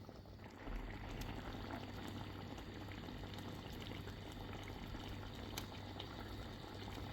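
Corn in yogurt gravy simmering in a pan on a gas stove, a steady soft bubbling hiss that runs evenly throughout, fairly faint and close, with no talking.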